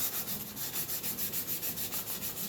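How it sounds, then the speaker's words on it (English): Wooden triple drone flute being sanded by hand, a soft, even rubbing hiss repeating in quick regular strokes, close and fairly quiet with no talk. "a tiny bit of double checking on the sanding"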